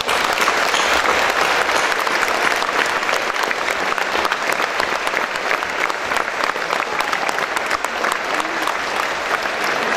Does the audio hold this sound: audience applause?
yes